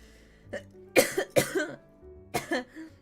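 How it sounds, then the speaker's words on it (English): A few sharp coughs close to the microphone, coming in a quick cluster and then one more after a short pause, with quiet between them. "Didn't mean to cough at you either."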